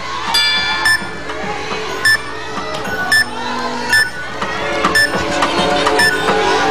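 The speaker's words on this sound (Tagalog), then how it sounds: "Timer!" A game-show timer goes off with a repeated electronic beeping, sharp tones sounding roughly once a second over a busy studio background.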